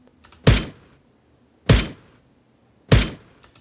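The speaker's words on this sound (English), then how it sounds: "here's the original pistol sound. And now here's my version." Three punchy modded pistol gunshots from the browser shooter Krunker fire about a second apart, each a sharp loud crack with a short tail, separated by near silence.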